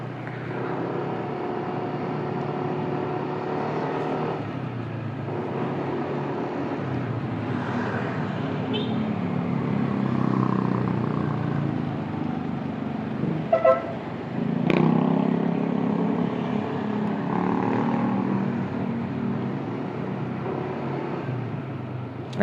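Motorcycle ridden through traffic, captured on a phone with wind noise reduction active; a steady engine and road rumble runs throughout with a couple of brief louder bursts from passing traffic, no talking.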